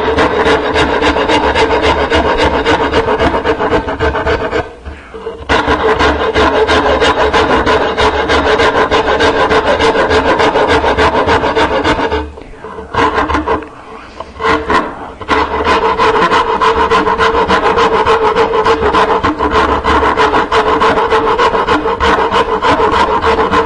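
A Nicholson No. 49 cabinet maker's rasp files wood in steady, loud rasping strokes, with brief pauses near five and again around thirteen to fifteen seconds.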